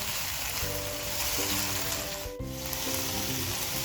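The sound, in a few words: capsicum and cabbage frying for fried noodles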